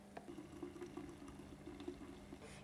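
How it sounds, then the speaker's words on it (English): Blended cucumber and lime mixture strained into a pitcher, giving a steady, close trickle and splash of liquid that runs without pause, with no talking. "we're going to be straining to remove all the pulp"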